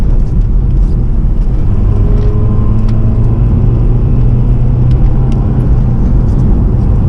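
Seventh-generation Honda Civic Si EP3 engine drones steadily while driving, a continuous low rumble with faint rising harmonics at a gentle pace, heard from inside the cabin with no talking.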